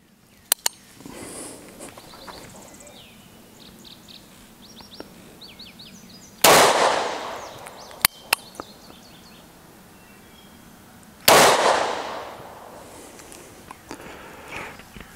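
Two loud, sharp gunshots from a Bond Arms Rough and Rowdy derringer firing .45 Long Colt, spaced about five seconds apart, each with a ringing outdoor decay, over faint background birdsong and a few small clicks.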